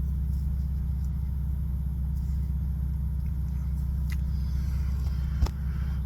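A Mustang, a Camaro and an Altima sit idling at a red light late at night, a steady deep engine rumble throughout, with a faint click near the end and no talking.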